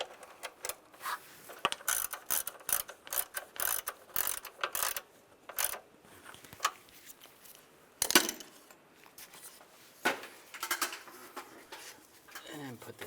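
Ratchet wrench snugging down a nut on a 2007-2013 Chevrolet Silverado 1500 intake manifold cover, bursts of quick close clicking strokes separated by pauses, with a few light metal clanks.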